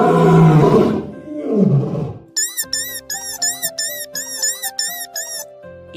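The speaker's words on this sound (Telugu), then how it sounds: "సింహం మేలుకుని కోపంగా అరిచింది" An angry cartoon lion's roar in an animated children's fable, two loud rough bursts close up, followed by squeaky tinkling music.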